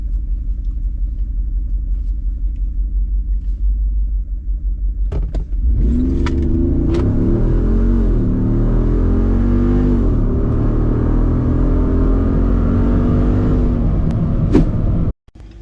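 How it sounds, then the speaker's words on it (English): Supercharged Jeep Wrangler Rubicon 392 in stock four-wheel-drive mode idles with a deep rumble, then launches hard from a standstill, its V8 roaring loudly and climbing through gear shifts for about ten seconds before cutting off. "All right guys, about to do this 0 to 60. We're in 4-wheel drive stock mode."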